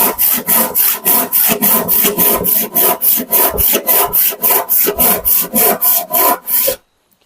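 A sharpened hand saw cutting through hard wood in even back-and-forth strokes, about three per second, loud and close with no talk, ending abruptly after nearly seven seconds.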